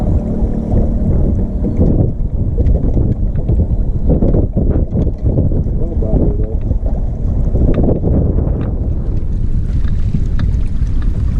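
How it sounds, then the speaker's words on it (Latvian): Wind blows steadily across open water during a spinning fishing competition from a boat, a constant loud rushing roar with brief buffeting gusts against the microphone throughout. "Ir vējš, ir līde, Keidžu, atceries."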